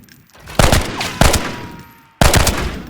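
A new gun in the shooter game Arena Breakout Infinite fires three separate loud, sharp bursts with short gaps between them, each trailing off quickly, with no speech.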